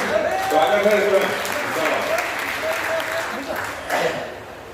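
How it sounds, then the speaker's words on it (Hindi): Applause from an audience at a Hindi poetry gathering (kavi sammelan) in Sitapur, a sustained crowd clap with voices and speech mixed in over it, swelling briefly again near the end. "एक बार सारे लोग मुझे तालियां बजाकर बताएं।"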